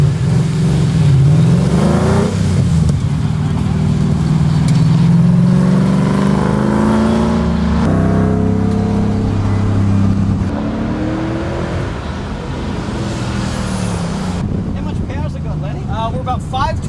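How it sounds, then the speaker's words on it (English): A Ford Mustang with a 5-liter Coyote V8, about 520 horsepower at the crank, accelerates hard with a professional race driver at the wheel during a ride-along. The engine roars and climbs steadily in pitch inside the cabin, with wind noise and voices over it. "a ride-along in one of these high-performance Mustangs driven by a professional race car driver"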